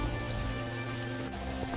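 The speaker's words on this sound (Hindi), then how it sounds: "बारिश थी कि रुकने का नाम तक नहीं ले रही थी" Heavy rain falls steadily in a dense, unbroken hiss that fills the whole stretch, loud and close with no voices.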